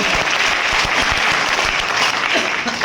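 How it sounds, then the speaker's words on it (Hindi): An audience at a business plan seminar claps steadily and loudly, sustained applause filling the whole moment. "तालियां नहीं होनी चाहिए क्या?"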